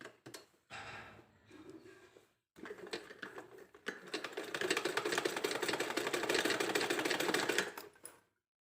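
Sewing machine stitching cloth for a small Laddu Gopal dress, starting with short stop-start bursts and then running in a long steady rapid clatter before stopping, heard close up.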